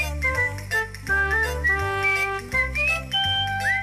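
A pink cartoon rabbit whistles a bright, wavering melody right up front over steady backing music, the whistled notes sliding and trilling across the tune.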